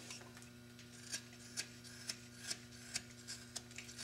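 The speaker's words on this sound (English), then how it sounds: "we can start just by taking our knife and roughing up, carving off all the sawn areas of this blank" A knife carves sawn areas off a wooden blank, producing faint, close scraping strokes in a steady rhythm of about two per second, each a short rasping shave, with no talking.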